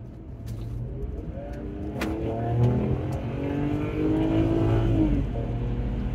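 A BMW E90 328xi on the road pulls hard under acceleration, the engine note rising steadily over tire and road rumble, heard from inside the car with no talking.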